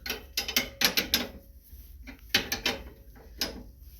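A wrench turns the deck-leveling nuts on a Cub Cadet lawn mower, giving bursts of rapid metallic ratcheting clicks with brief pauses between them, close and moderately loud.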